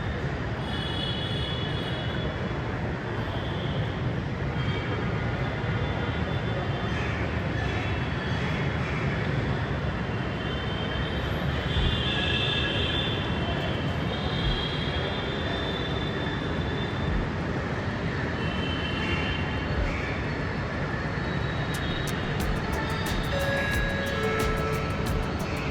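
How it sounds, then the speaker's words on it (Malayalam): A Jaipur metro train approaches the station platform with a sustained, loud rolling roar and hum that holds steady for nearly half a minute, with no voices. "നമുക്ക് പോകാനുള്ള ട്രെയിൻ വന്നുകൊണ്ടിരിക്കുകയാണ്."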